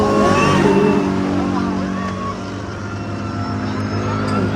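A car speeding up on a road in Dubai, its engine note rising steadily and loud from close by as it accelerates, with a continuous rumble throughout and people talking over it.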